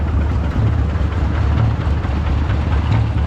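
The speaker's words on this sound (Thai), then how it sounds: "เร่งเครื่องขึ้นอีกนิดนึงนะครับ" A heavy engine running hard at a wood-selling yard, a steady loud low-pitched roar with a rough throbbing rumble, close by and with no voices.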